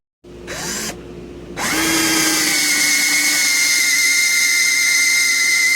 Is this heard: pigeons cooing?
no